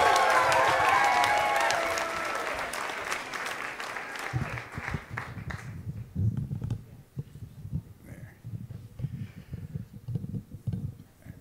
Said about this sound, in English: Keep your applause going for Richard Cardllo.